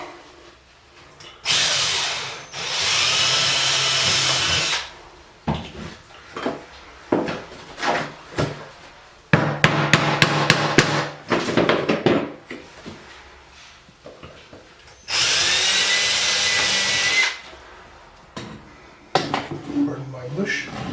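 A power drill boring into oak inside a closet, several loud bursts of whirring a few seconds apart with a rapid ratcheting run between them, plus clunks of handling and someone talking in the gaps.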